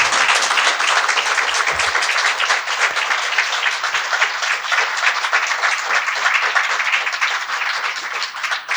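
An audience at a literary talk on Borges breaks into loud, sustained applause, dense and even clapping filling the room throughout without any speech.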